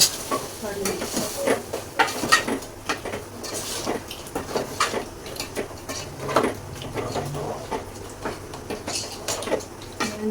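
Turmeric being stirred into a pot on a wood-fired stove, with repeated scraping strokes of a spoon against the vessel over a soft sizzle, steady and close throughout.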